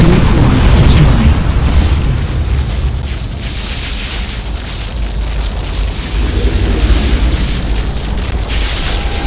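A huge power core blows apart in an Unreal Tournament 3 Warfare match at Dusk, a loud roaring blast that rumbles on in a dense, sustained wash of explosive noise.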